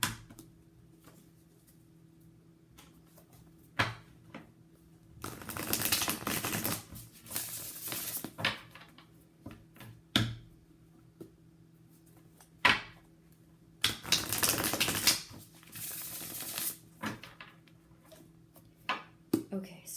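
A deck of tarot cards being shuffled in two bursts of rapid riffling and slapping, close by, with scattered handling taps and clicks between them.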